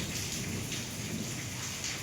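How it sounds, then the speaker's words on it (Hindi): Steady heavy rain pours during a thunderstorm on Radha Ashtami outside a home courtyard, a dense continuous hiss with no distinct thunder clap standing out. "और मौसम के नज़ारे देखो अब कितनी तो बिजली कड़क रही है।"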